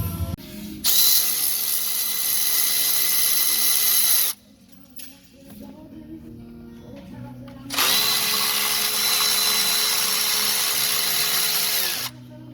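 A Milwaukee powered ratchet whirs while backing out timing case bolts, making two long, loud, close runs separated by a quieter pause with faint clinks.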